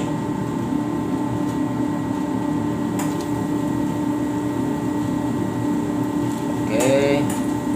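Flour-coated fish fillet frying in hot oil at home, a steady loud sizzle throughout with a brief clatter and whistling tone near the end.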